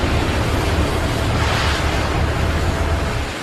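Loud, steady ocean surf and wind-blown wash where the Yangtze River meets the sea. It is a dense, continuous roar that fades slightly at the very end.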